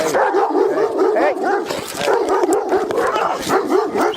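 A dog barks rapidly and repeatedly, close and loud, during a tense police response at a house, the yelps and barks running almost continuously with little pause.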